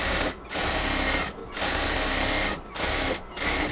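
A sewing machine stitches a baby palazzo salwar leg in several sustained bursts of fast, steady running, separated by short pauses.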